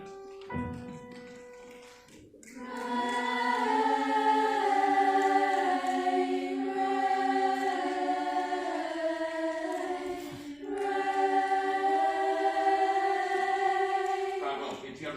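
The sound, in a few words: choir sopranos and altos imitating rain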